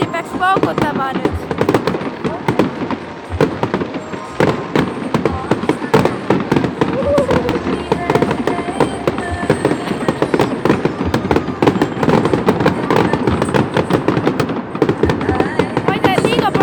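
Dense New Year's fireworks and firecrackers bang and crackle nonstop, many sharp overlapping reports close by and farther off, with voices faintly underneath.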